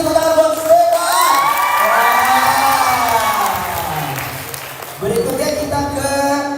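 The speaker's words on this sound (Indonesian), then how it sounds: "Sekali lagi tepuk tangan buat Stefan." A fan meet crowd in Bali applauds and cheers for Stefan, with loud sustained clapping, shouts and whoops filling the room while an amplified host's voice carries over the noise.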